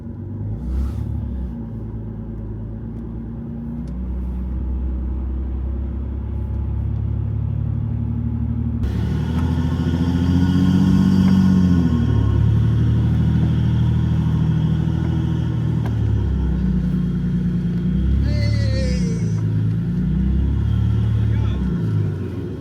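A 4x4 on mud tires churns through slick, greasy mud and sandy stretches after heavy rain, its engine a steady low rumble that swells and eases with throttle, while a person talks over it for much of the drive.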